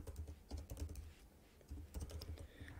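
Typing on a computer keyboard comes through as quiet, quick bursts of key clicks separated by short pauses, close-up and with no talk over it.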